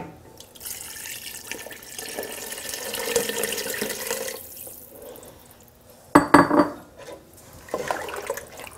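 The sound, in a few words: pouring water into gumbo pot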